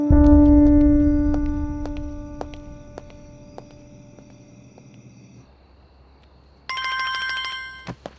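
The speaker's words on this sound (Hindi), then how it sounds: "की गल, जोरा फोन नहीं चकदा?" A telephone rings with a loud electronic bell tone that fades, then a shorter, higher ring starts again near the end.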